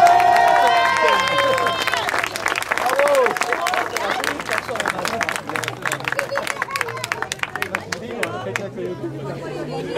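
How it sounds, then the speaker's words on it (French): Audience applause at a rally awards ceremony, a dense burst of clapping from a crowd mixed with chatter and babble, thinning into scattered claps as voices continue. "vos applaudissements s'il vous plaît"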